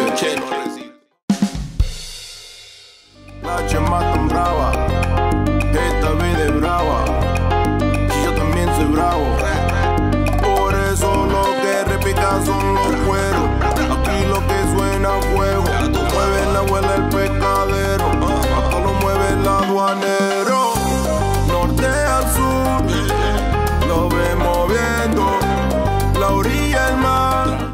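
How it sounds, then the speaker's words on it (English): A loud, continuous looped recording blares from a scrap-buying truck's loudspeaker in Mexico City, rhythmic music with a voice over it, repeating steadily and sounding amplified and slightly distorted. "the people in these trucks actually drive around the city with this recording on loop"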